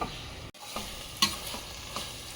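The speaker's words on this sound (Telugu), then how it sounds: "అప్పటి వరకు అంటే ఒక 5 నిమిషాలు అట్లా వేయించాలి" Raw masala paste of fresh coconut, cloves, cinnamon, coriander seeds and poppy seeds fries in a pan, giving a steady close sizzle with a few scraping stirs of a spoon, and no voices.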